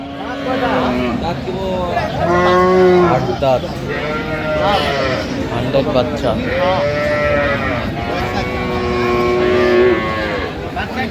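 Cattle at the Aftabganj livestock market in Dinajpur, with dairy cows and calves, moo repeatedly in long, loud, close calls that overlap, under a background of voices and crowd noise.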